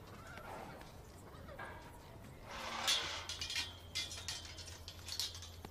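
A roan horse neighs in a brief whinnying burst around the middle, over a steady low ambient background.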